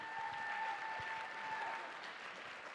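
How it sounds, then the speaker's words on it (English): Steady audience applause at a scholarship pageant, a dense, even wash of many hands clapping from a crowd, sustained and somewhat distant throughout with a faint tonal hum underneath. "Can we get another round of applause for Grace?"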